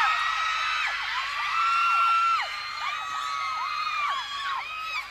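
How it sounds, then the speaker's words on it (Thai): A crowd of young voices at a concert screams and whoops in loud, sustained cheering, with repeated high shrieks rising and falling over several seconds. "ขอเสียงปรบมือดังๆให้กับน้องอ้อมหน่อยครับดังกว่านี้อีกได้ไหม"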